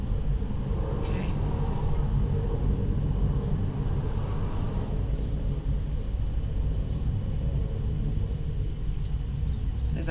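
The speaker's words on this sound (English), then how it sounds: "Looks like we've got aeroplanes and cars to contend with today." Low, steady rumble of aeroplanes near Bristol Airport and passing cars fills the background throughout, distant but constant, with a person talking over it.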